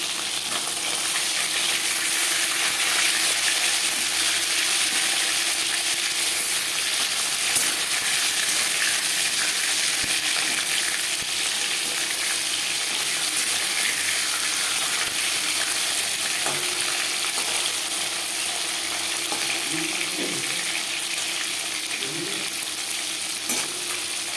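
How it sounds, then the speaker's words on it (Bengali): Continuous loud sizzling and crackling of lata fish frying in hot oil, steady throughout with occasional small pops and clinks. "এক পাশ ভাজা হয়ে গেলে অপর পাশ উল্টে দেবে"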